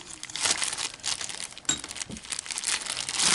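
Crinkling plastic rustles in bursts as a small bag holding vintage jewelry is handled and pulled open, close and fairly loud, with a sharper crackle midway.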